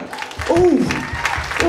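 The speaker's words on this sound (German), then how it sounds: "Klatsch die Hände für den Herrn." Congregation clapping along during a bilingual church sermon, a steady burst of hand claps under a preacher's voice.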